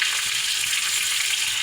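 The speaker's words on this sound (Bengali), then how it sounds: "লাল করে পেঁয়াজটা ভেজে নিই" Onions frying in hot oil with cumin seeds, for a Bengali lote fish curry, give a steady, dense sizzle that stays loud and close from start to finish, with no voices over it.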